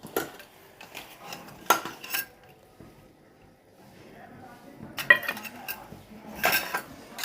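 Soybeans mixed with salt, arrowroot and cornflour in a bowl give intermittent scraping and clinking of utensil on dish in short bursts separated by quiet pauses, fairly close and moderate in volume.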